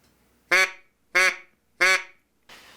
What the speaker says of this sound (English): If you can speak English, you can use a duck call.